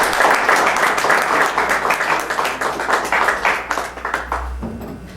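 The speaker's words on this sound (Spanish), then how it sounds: "pido un aplauso por favor" Audience applause at a conference on alternative justice in Jalisco, a steady, fairly loud wash of many hands clapping that continues throughout.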